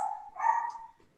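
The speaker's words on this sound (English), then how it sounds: "I got a little yappy doodle dog when people walk." A small doodle dog barks indoors during a meeting, one close, drawn-out yappy bark that rises and then trails off, with no one talking over it.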